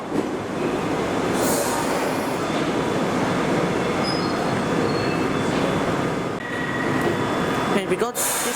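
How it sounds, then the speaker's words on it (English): A London Underground train for Heathrow terminals 2, 3 and 4 rolls out of Manor House station with loud rumbling and squealing wheels, a brief high whine, then a few clanks near the end. "And we got this train leaving for terminals 4 and 2 and 3."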